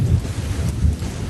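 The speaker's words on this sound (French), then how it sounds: "Dehors, il pleut fort." A thunderstorm with heavy rain pours steadily outdoors, a dense rumbling wash with low thunder rolling underneath, continuous and fairly loud with no voices.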